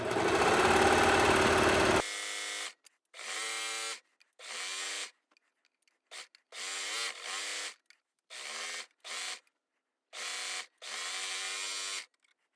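A sewing machine makes short stitches across the meeting seams of stretchy shorts, sounding as a steady broad buzz and then as a row of quick stop-start bursts with brief pauses between, close and clear with no talk.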